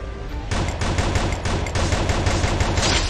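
Rapid gunfire from a weapon in an online shooter video game, a dense string of loud shots in quick succession lasting throughout.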